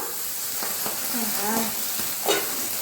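A sardine curry simmering in a pot on the stove, giving a soft, steady bubbling sizzle with faint stirring and a brief louder splutter near the end.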